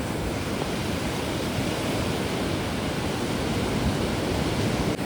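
Large sea waves surge onto a beach at Devgad, Sindhudurg, in heavy monsoon rain, making a loud, steady broadband roar of surf and rain that runs unbroken throughout, with no voices.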